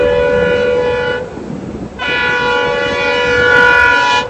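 A train crosses the new Pamban sea bridge, its horn blaring loud and sustained with a brief pause before sounding again over the rumble of the cars rolling along the track.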